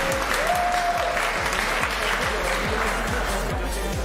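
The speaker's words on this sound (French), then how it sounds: "Aigri face à Arig, un tonnerre d'applaudissements." Thunderous applause from the crowd at a French robotics competition final, a dense steady roar of clapping filling the hall for the whole stretch without a break.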